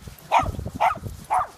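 Three loud barks from dogs out on a morning walk, evenly spaced about half a second apart, close by over a low rumble of outdoor background noise.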